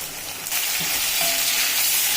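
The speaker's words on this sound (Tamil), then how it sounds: "நல்லா வறுத்துக்கிடலாம் ப்ரௌன் கலருக்கு." Onions frying in oil give a constant loud sizzle, with light stirring sounds underneath throughout.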